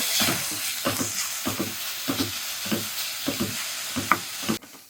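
Thecha chili paste being sautéed with softened onion in a pan, rhythmic scraping stirs of a spoon repeating about twice a second over a low sizzle, close by, with a clack just before the sound stops.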